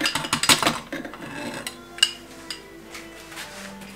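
Metal whisk clinking rapidly against a bowl while stirring chili garlic chutney, a burst of quick chinks that slows into scattered taps and scrapes, close and clear.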